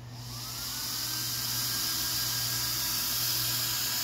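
A Powerhobby dual fan heatsink for a 1/8 scale motor spins up and blows air with a steady, loud, close whirring rush that holds level after a quick rise, with no talking.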